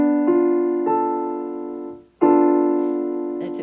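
Seventh chord on a piano, struck twice in quick succession and left to ring, then fading out before being played again. Each strike is loud, sustained and clear, with a brief soft touch at the end.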